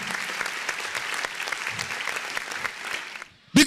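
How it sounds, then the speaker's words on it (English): Audience at a university freshers' orientation programme breaks into steady, dense clapping for a singer, sustained for about three seconds before stopping abruptly, followed by a short loud burst of sound at the end. "I can see that all of you are clapping because she knows how to sing."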